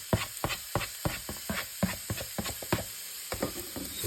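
Onion and garlic frying in a pan for a homemade bean stew, with a bright steady sizzle behind a rapid series of sharp clicks and scrapes, like a utensil stirring and tapping the pan, close by with no talking.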